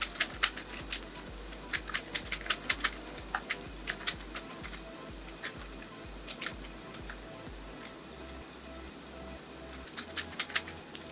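Rapid, irregular keystrokes on a computer keyboard while entering text into a bordered table in Microsoft Word, close and fairly quiet, with short pauses between bursts and no talking.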